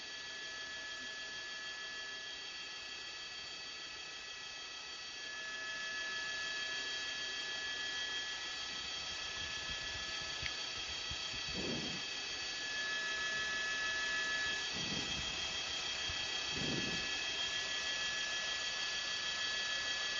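Steady helicopter engine roar with a constant whine and hum, loud and continuous throughout, with a few brief whooshing gusts near the end, during firefighting at a wildfire near the 14 Freeway, Santa Clarita, California.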